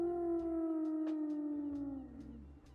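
In the cozy video game Tiny Bookshop, a single dog lets out one long, clear howl that slowly falls in pitch and fades, with soft game ambience beneath and no talking.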